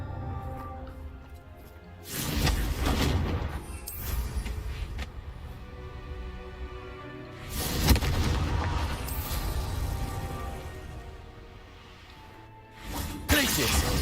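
Confringo fire-blast spells exploding in Hogwarts Legacy, three heavy booming blasts spaced several seconds apart, each rumbling and fading slowly, with quieter game ambience and scattered softer bangs between them.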